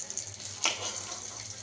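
Food fries in hot oil in a pan, browning slightly too dark, giving a steady close hiss with one brief louder sizzle burst.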